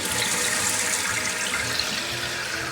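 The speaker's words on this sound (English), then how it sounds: "I'm now going to turn water onto the tank." Kohler toilet tank filling with water after the supply is turned on, a steady close hiss and rush of flowing water with no speech.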